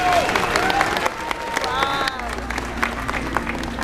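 An audience at a pilot whale show claps and cheers loudly while voices and whistles rise over the noise, with a low hum joining partway through.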